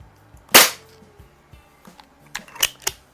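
A Predom Lucznik spring air pistol fires a pellet with one sharp, loud crack near the start, followed by softer mechanical clicks and handling taps as the gun is worked.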